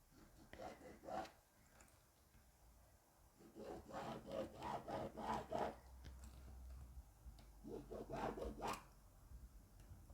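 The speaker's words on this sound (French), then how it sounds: "Je tire un trait de cet angle-là" Three quiet bursts of scratchy rubbing as a reference line is drawn corner to corner across fabric while making sewing piping, each stroke a short run of rapid scrapes.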